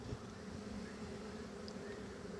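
A large swarm of honeybees being hived buzzes and fans at the hive entrance, making a continuous, steady drone of many wings close by with no talking.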